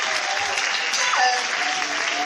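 Church congregation applauding during a Sunday service, a dense, even burst of clapping from a crowd that fills the whole short stretch, fairly loud and close.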